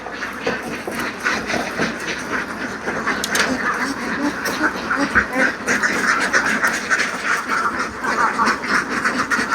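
Ducks on a large farm in Laos, set beside a fish pond, keep up a dense, busy chorus of overlapping quacks that runs steadily from start to finish with no talk over it.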